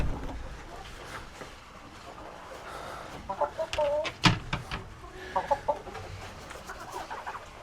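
Broody hens on a farm cluck close by in short, irregular bursts that grow busier toward the end, over a low background murmur.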